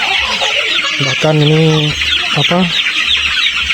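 Chickens cluck and squawk continuously inside a hot poultry house, with one bird giving a louder drawn-out call in the middle, close and dense, with a few brief words spoken over the flock.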